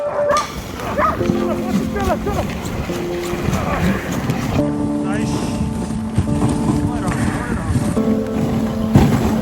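Sled dogs at a dog sledding race in northern Norway bark and yip excitedly in quick bursts at close range, mixed with outdoor noise and people talking nearby.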